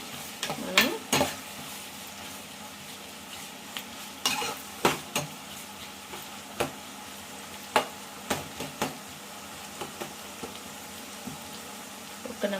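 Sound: tomato pieces frying in a pan

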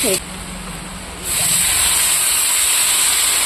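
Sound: water added to frying potato curry, hissing steam

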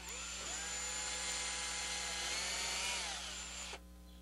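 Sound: drilling out a screw hole in hardwood chair

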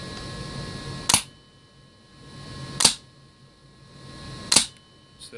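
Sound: XCR airsoft gun firing through a chronograph at 90 PSI

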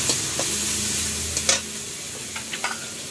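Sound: food being cooked in a home kitchen

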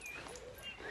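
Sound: dog whimpering

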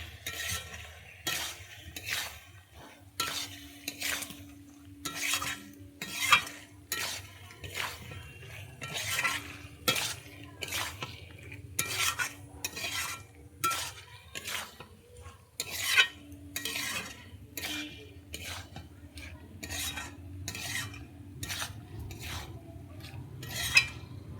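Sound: sautéing fried potatoes with spices in a pan, stirring

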